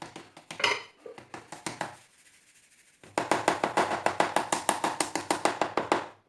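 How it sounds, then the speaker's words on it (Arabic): Semolina is sifted through a sieve with steady, rhythmic tapping and shaking, a quiet scraping stretch in the middle, then a fast regular run of close taps. "غادي نغربلو السميده الاخرى"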